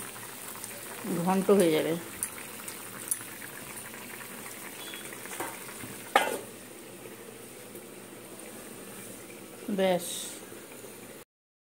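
Banana and potato kofta curry simmering in a pan, a soft steady bubbling bed with a few louder stirring or clattering bursts, while a person talks over it.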